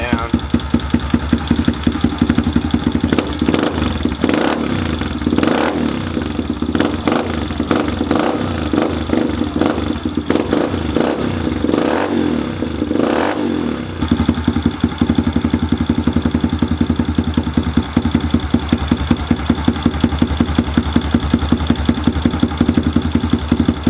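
Kawasaki KLX110 dirt bike engine idling right after a carburetor screw adjustment, a steady close putter with a faint knock that slows slightly midway, a voice talking briefly over it.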